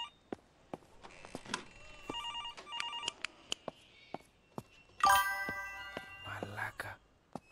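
A telephone rings in the PS5 horror game INFliction, with repeated bright bell-like chimes in short bursts that grow louder and denser near the end, alongside faint whispery game ambience.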